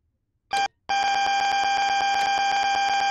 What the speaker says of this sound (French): Cette alarme est le système autotest AWS.